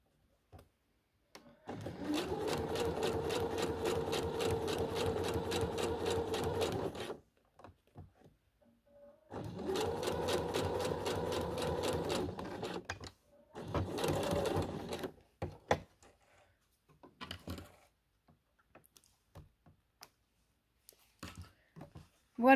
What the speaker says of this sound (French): j'ai cousu ma poche